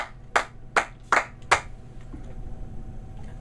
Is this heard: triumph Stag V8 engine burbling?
no